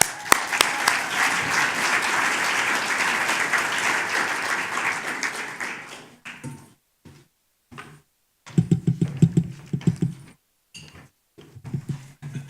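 Audience clapping to welcome speaker Melissa Bucher at the 2018 LEAD welcome dinner, a full, dense burst of applause for about six seconds that cuts off abruptly, followed by scattered sparse sounds and brief pauses.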